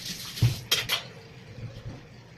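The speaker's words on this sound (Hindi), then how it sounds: "तो मैंने जल्दी जल्दी से बर्तन धो लिए।" Dishes, pots and utensils being washed by hand, giving a few clattering knocks and clinks of metal and crockery over a quiet, hissy background, with no voices.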